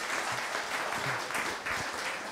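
Audience clapping at a literary talk fills the whole stretch with a dense, steady patter that holds close and loud from start to end.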